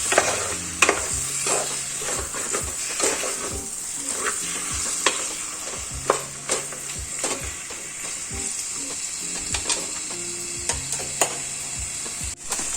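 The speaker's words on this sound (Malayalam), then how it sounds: "ഇനി ചിക്കൻ ഒന്ന് നന്നായി ഈ മസാലയിലോട്ട് മിക്സ് ചെയ്തെടുക്കണം." Chicken pieces stirred into a spiced masala in a pan for a coconut-milk chicken curry, repeated scraping and clunking strokes of a spoon over a steady sizzle, close by, without talking.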